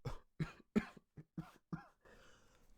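A person coughs hard in a string of about six loud, close bursts spaced roughly half a second apart, after vaping, followed by a soft rustling tail; no speech.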